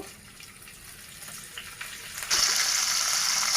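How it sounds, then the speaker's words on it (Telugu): Cumin and urad dal fry in hot oil for coconut chutney: a low crackle builds, then a loud, bright sizzle bursts in and holds near the end. "జీలకర్ర మినపప్పు కాస్త వేపుకుందామండి"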